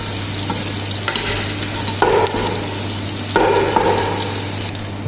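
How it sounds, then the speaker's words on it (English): Onion fries with whole spices in a pot for beef biryani, a loud continuous sizzle under a low hum, broken by two bursts of stirring as the spoon scrapes through the pot. "now we are cooking with this whole spices"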